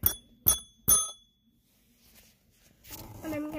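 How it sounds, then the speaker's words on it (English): A small hand bell rings three times in quick succession, each strike bright and close with a short ringing decay, followed by quiet room tone and then faint voices and rustling. "I'm gonna ring this bell."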